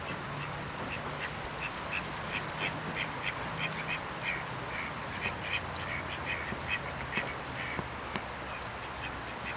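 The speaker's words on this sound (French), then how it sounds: "3 canards qui sont assis sur une espèce de petit radeau." Three ducks sitting on a small raft on the banks of the Saône at Fontaines-sur-Saône quack repeatedly in short, scattered bursts over a steady outdoor background hum, some calls closer and louder than others.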